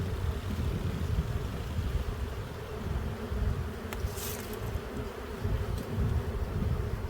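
Honey bees swarm around an open spring hive with a steady, low, droning buzz that holds for several seconds, with faint clicks near the middle.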